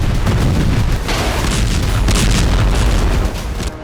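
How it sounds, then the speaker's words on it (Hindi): Bombing explosions in Khan Younis, Gaza, that levelled a whole building form a loud, continuous roar of booming rumbles with no quiet gaps. "ये खान यूनिस में बमबारी का वीडियो है, जिसमें बमबारी के बाद एक पूरी इमारत तबाह हो गई।"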